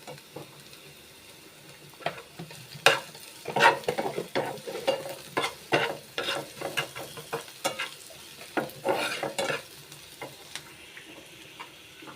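Onions frying in a pan with a little salt, cooking toward golden, under a soft sizzle, while a spoon scrapes and stirs in irregular clattering bursts close by, with no talking.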